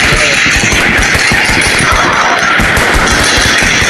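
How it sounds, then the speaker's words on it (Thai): Loud, rapid video game gunfire bursts crackling continuously, dense and close, with crashing impacts mixed in and no talking. "มันคือเสียงปืนดังชิบหาย"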